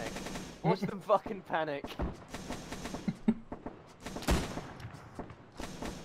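Burst-fire machine gun shots in a World War II-style online battle at Chef Du Pont, short rapid volleys crackling close by, with someone talking excitedly over and between them.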